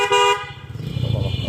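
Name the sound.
motorbike horn honking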